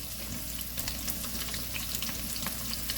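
Bell pepper and red onion sautéing in butter in a pan, a dense crackling sizzle with frequent small pops and spatters, fairly quiet and steady, nobody talking.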